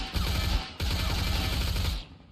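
Rapid bursts of gunfire in the survival game Mist Survival, dense and loud, with a brief gap before a second sustained volley that fades out.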